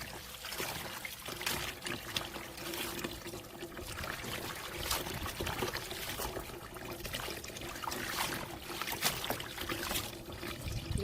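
Water drains and trickles from freshly rinsed napa cabbage for a kimchi pickle, a continuous close dribbling and splashing wash of sound with small irregular surges and no voices.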